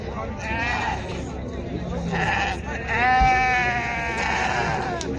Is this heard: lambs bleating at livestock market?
yes